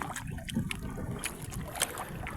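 Oars paddling a small boat with a broken engine, steady splashing and water churning against wind noise on open water, fairly close with no talk.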